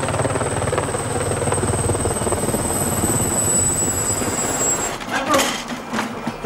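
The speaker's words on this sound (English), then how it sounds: "Vouvray and the genuine Herr Schubert have just this second requested permission to land their helicopter" A helicopter comes in to land, its rotor thudding in a loud, rapid, steady beat with a high turbine whine, then breaking up into rumbles and knocks as the engine note shifts near the end.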